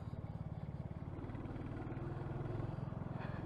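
A Royal Enfield motorcycle, likely a 350, rides past with a steady low thumping single-cylinder beat, fairly faint and a little distant, swelling slightly as it goes by.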